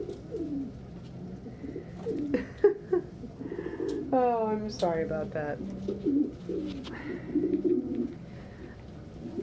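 Breeding pigeons coo close by, a few soft, throaty warbling calls in quick bursts, with someone speaking briefly over and between them.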